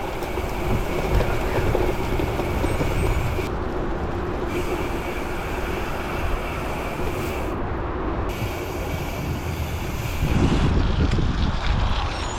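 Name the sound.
strong wind while riding a gravel bike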